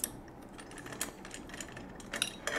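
A 2-speed boat trailer winch handle is shifted onto the high post, giving a short run of faint metallic clicks, ratcheting and small clanks close by.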